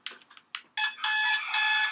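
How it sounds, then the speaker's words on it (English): An electronic alarm goes off close and loud, starting with a few short chirps and then turning into sustained bright beeping tones that repeat in long bursts, with no talking over it. "That was the alarm that's come through."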